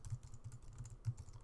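Code being typed on a computer keyboard, with quick, steady keystrokes clattering close by in a busy stream and no talking.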